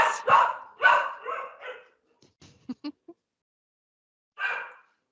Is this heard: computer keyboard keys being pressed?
no